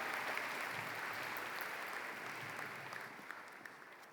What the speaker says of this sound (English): Round of applause for our board member